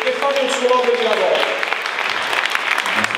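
Audience applause fills an event hall at a community celebration in Pisa, a dense sustained clapping that builds near the start and then continues steadily, with a voice talking over it early on.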